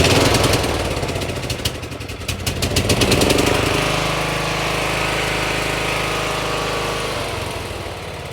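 An MTD riding lawn mower engine runs steadily after a carburetor rebuild, a loud close chugging drone that starts rough with rapid knocking pulses, then settles into an even idle hum with no talking.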